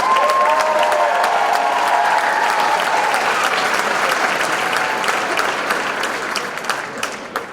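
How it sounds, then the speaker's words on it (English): A large audience applauds contestants at the Miss Kenosha Scholarship Competition, with loud continuous clapping and a few cheers that slowly taper toward the end. "Let's give them all another round of applause"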